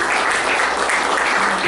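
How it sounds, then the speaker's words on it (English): Audience applause at a poetry and prose open mic night in a Lakewood, Ohio venue, a dense, sustained wash of clapping from a crowd, close and fairly loud throughout. "Please give a round of applause, a second round of applause to Cassandra"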